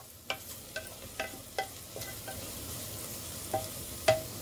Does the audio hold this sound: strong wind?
no